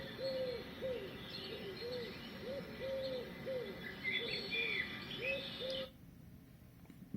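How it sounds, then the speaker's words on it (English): Steady cooing calls repeat in a slow rhythm while higher chirps and trills join in, a gentle summer birdsong alarm sound from a Philips Somneo wake-up light that cuts off abruptly near the end. "So I've set it to nature, and then you can select different sounds in nature. So summer birds."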